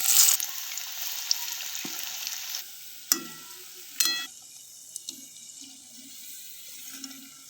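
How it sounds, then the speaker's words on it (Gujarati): Moong dal vadas frying in hot oil in a kadhai: a loud, steady sizzle for the first couple of seconds, then a softer bubbling with a few sharp utensil clinks. "કઢાઈમાં તેલ તપીને તૈયાર છે તો વડા તળી લઈએ।"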